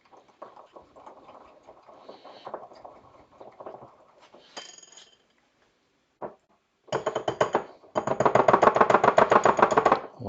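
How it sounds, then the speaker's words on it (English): A small manual whisk works through thick purple batter in a bowl, a faint scraping at first, then fast, loud rhythmic tapping strokes close by toward the end. "It was too thick at the start, so we have to use manual tiny whisk."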